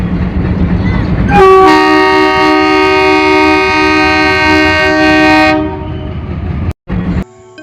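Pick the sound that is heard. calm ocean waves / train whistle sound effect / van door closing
train whistle sound effect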